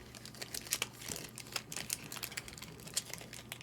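Small cardboard packaging box for a fountain pen being handled and opened, giving close, quiet crinkling and rustling with scattered light clicks and taps, no voices.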